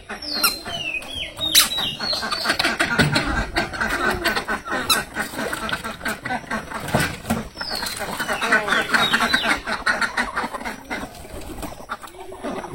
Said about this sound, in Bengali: হাঁসগুলো এখন ছাইড়ে দেয়, এই যে নিলয় ছাইড়ে দেয়।